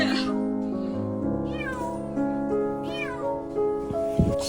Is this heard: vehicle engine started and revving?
no